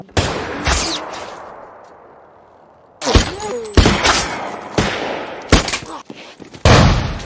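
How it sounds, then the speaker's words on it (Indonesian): Gunfire in a film scene of bandits being shot down in a wasteland: a loud burst of shots, a fading tail, then several sharp close shots and heavy shotgun blasts in quick succession. "Carnegie memerintahkan Redridge untuk menembak mati Eli yang sedang berjalan"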